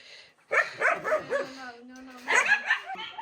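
A nearby dog gives a run of short, high yips and whining barks in two bursts separated by a brief drawn-out whine, close and fairly clear.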